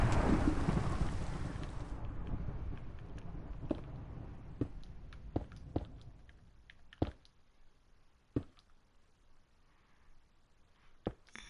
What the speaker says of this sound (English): My God, rain.